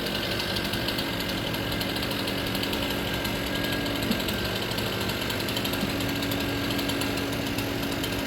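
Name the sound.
two saws cutting a tree on comms lines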